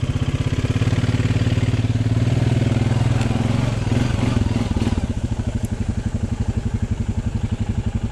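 A Honda Recon ATV engine chugs and revs while stuck in thick, soupy mud, a steady loud mid-pitched putter with a brief surge partway through, heard close.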